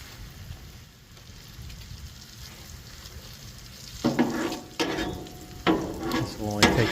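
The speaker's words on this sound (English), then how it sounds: "This will only take a couple of minutes to fry up." Country fried steak frying in vegetable oil on a Blackstone griddle that leans toward the back, a low steady sizzle with sharper crackling bursts as pieces are laid down, no voices.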